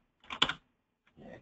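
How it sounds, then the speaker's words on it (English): A computer keyboard is tapped to enter a vendor name into accounting software, giving a brief cluster of close keystrokes, a short pause, then another quick burst. "And then I can go in and maybe just type in the vendor that I want."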